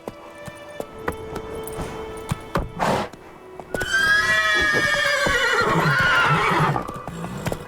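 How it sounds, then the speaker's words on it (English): The horse Roach from the video game The Witcher 3 gives a loud, drawn-out whinny preceded by scattered hoof clops and clicks, the neigh ringing clearly for several seconds before trailing off. "Not so fast, Roach."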